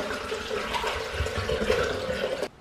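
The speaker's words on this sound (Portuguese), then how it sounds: "Aí eu vou colocar um litro de água" A liter of water poured into a blender jar for homemade beet and Tahiti lime juice splashes in a steady, close gushing stream, then stops abruptly near the end.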